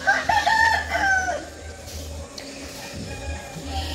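A rooster on a backyard poultry farm lets out one loud, close crow, then the yard settles into low ambient farm noise with faint clucking and rustling.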